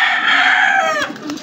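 A Boston Roundhead rooster gives one loud, close crow that trails off into a few short clucks at the end.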